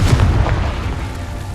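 A Confringo fire spell bursts in Hogwarts Legacy, a heavy booming blast with a deep rumble that rolls on and fades slowly over a second and a half, loud and close.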